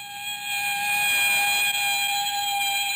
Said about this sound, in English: the hulking shape of a police ambulance whipped through the drive and sped past us